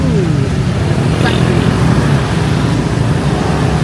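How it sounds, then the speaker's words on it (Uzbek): Busy street traffic in Ubud, Bali, fills the clip with a constant dense roar of cars and motorbikes passing close by, steady and loud without pause. "trafikni qaranglar"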